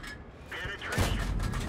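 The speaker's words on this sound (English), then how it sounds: "Oh, ricochet." A tank shell in World of Tanks glances off armor: a sharp metallic clang lands about one second in, then rumbling battle noise continues. A voice is faintly present.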